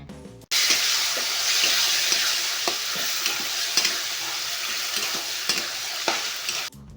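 Boiled taro greens stirred into fried spices in a pan: a loud continuous sizzle with repeated scraping stirs at an irregular rhythm, close up, no talking.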